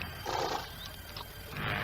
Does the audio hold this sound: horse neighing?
yes